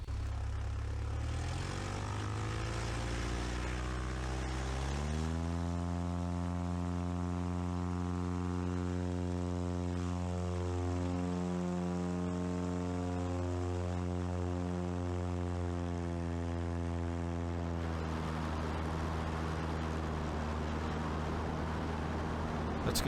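A Cub Crafters Carbon Cub FX3 propeller plane touches down and immediately takes off again; its engine is loud and close, climbing steeply to a sustained high-revving drone before fading toward a rougher, noisier tail.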